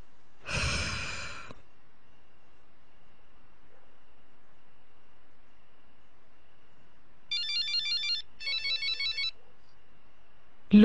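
A phone rings with an incoming call at bedtime, short electronic ringtone bursts repeating after a quiet stretch, preceded by a heavy breath or sigh near the start, in an otherwise quiet room.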